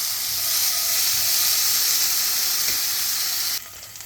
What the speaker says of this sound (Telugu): గార్లిక్ కూడా వేసేస్తున్నాము. ఇది కొంచెం మంచిగా మనము వేయించుకున్నాము.